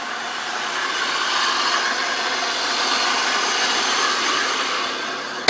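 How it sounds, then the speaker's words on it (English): Stock muffler exhaust of a 1998 Oldsmobile LSS, a steady, loud, broad rumbling roar held evenly for several seconds, close by with no talking, ending in a brief bump. "that muffler exhaust system is stock on this car, so that's really cool. It sounds very mean and rumbly."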